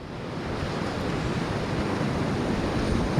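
Sea waves on Fleetwood beach break and wash in a continuous close roar, with gusts of wind buffeting the microphone and no voices.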